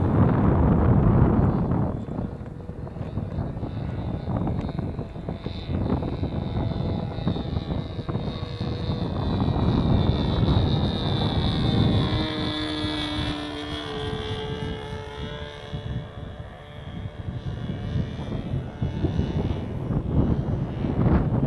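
A Sig Smith Miniplane model airplane flies at Hemet Model Masters, California, in gusty crosswind. Its engine drones steadily and rises and falls in pitch as it passes, with wind buffeting the microphone throughout.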